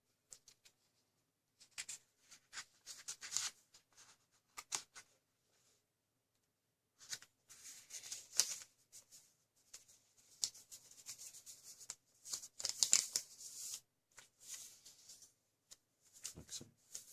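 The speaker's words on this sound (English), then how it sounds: "We do this by folding top right hand corner down to the bottom left hand corner." A square of paper is folded corner to corner into a triangle for an origami bird base. Soft, close, intermittent crinkles and rustles are heard with pauses between them, and no voices.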